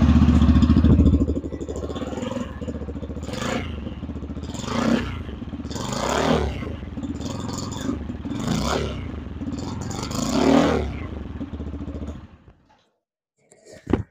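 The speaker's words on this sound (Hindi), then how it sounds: "आपको इसका एग्जॉस्ट साउंड कैसा लगा मुझे कमेंट करके जरूर बताइएगा।" A Yamaha FZ-S Version 4.0 motorcycle, with its 149.7 cc engine, idles and is blipped repeatedly from close by, giving a string of sharp exhaust rises and falls before it cuts out near the end.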